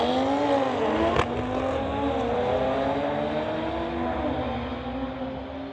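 Two cars drag racing, an Audi RS3 against a 2009 BMW, at a street legal drag strip event; a loud, steady engine roar with shifting pitch runs throughout, with a brief sharp burst near the start.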